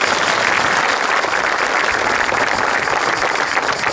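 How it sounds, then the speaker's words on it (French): An audience at a holiday resort inauguration applauds staff, dense continuous clapping filling the space evenly for a few seconds. "Je voudrais qu'on les applaudisse."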